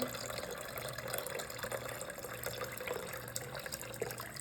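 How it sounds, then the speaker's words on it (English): A steady stream of ice water pours and splashes into a bowl close by, continuous and fairly quiet, with no voices. "2 cups of ice water. And we're gonna pour that right in there."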